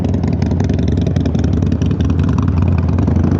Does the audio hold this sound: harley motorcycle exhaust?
yes